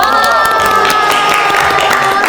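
Showroom staff at a MINI Cooper dealership cheer loudly together with whoops and clapping, a dense, close burst of crowd noise celebrating a top-sales award.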